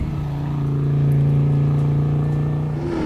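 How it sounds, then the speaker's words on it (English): Rally car engine running steadily after the car has rolled over, a loud close drone with a strong low hum that swells slightly mid-way, no talk. "This is Anton Grigorov, who's clearly rolled that car, manages to get it going again"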